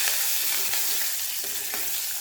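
Turmeric, curry leaves and green chilli sautéing in a pan for tomato saar: a steady close sizzle with occasional scraping stirs, no voices.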